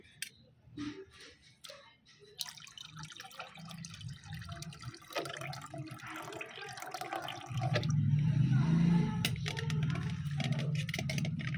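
A liquid herbal plant tonic pours steadily into a container of water, a low continuous splashing gurgle that grows fuller and louder toward the end, with scattered small clinks.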